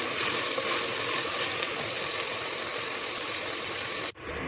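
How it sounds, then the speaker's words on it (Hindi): Masala for a mince and white beans dish fries in a pan with a steady, even sizzle and hiss that runs throughout, ending in a brief sharp break near the end. "मसाला हमारा अच्छे से फ्राई हो रहा है।"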